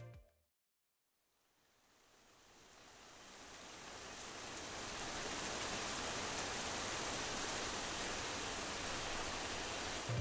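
Rain starts in a Lumion animation scene, fading in from silence into a steady, even hiss of rainfall that builds gradually and then holds constant.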